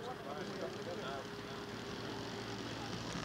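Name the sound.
model Piper Cub aircraft taking off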